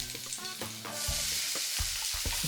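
Garlic and onion sautéing in extra virgin olive oil in a pan: a loud, steady close sizzle with stirring scrapes underneath, intensifying as the onion goes in.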